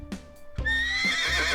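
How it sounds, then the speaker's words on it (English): A horse on a Yorkshire farm whinnies loudly and close, a long shaky neigh rising after a couple of short snorts, with no talking over it. "This is a horse."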